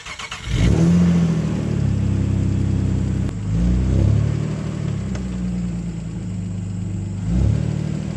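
A Nissan Altima's VQ engine running after a custom engine mount repair, starting up and then idling with a low steady hum and a couple of light revs, close and loud, no talking.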